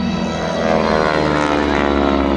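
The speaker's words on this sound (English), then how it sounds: "the distinctive sound you hear coming from War Dog is the sound of the propeller tips going supersonic" A WWII-era propeller plane at an air show drones loudly and steadily with a harsh, buzzing rasp from the propeller tips going supersonic, close and continuous.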